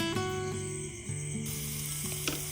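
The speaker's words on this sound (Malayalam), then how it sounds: "അതിന് ശേഷം നമ്മൾ കറിവേപ്പിൻ്റെ ഇല ഇട്ട് കൊടുക്കണം" Curry leaves crackle and sizzle in hot oil for a Kerala-style thoran, a close, steady frying hiss with a few sharp pops, and a tonal hum running underneath.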